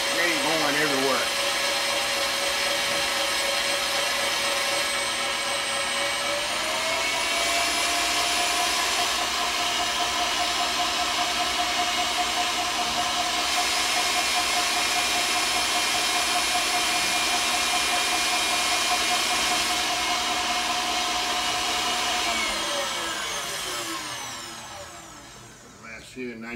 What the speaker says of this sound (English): so we're gonna turn this mixer up a little